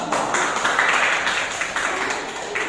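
A junior high school class in an Islamic education lesson applauds the first group, a steady, dense patter of many hands clapping together in a classroom, moderately loud and continuous.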